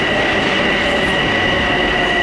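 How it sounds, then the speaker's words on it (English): Subway train running on the late route back to Manhattan in New York City, a loud continuous rumble with steady high-pitched wheel whine filling the whole stretch, no voices. "We just ran the very last train out of Copenhagen back to Manhattan to our hotel."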